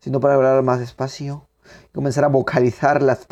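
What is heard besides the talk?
No everyday noises stand out.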